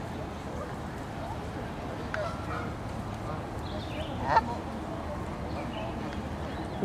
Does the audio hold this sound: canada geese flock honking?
yes